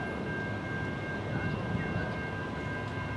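Norfolk Southern locomotive 8353 leading a train as it moves, a steady broad rumble of rolling wheels and engine with a faint tonal whine, heard from nearby without talk.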